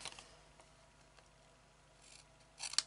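Scissors cut paper in a few faint, crisp snips at the start and again just before the end, with near silence in between.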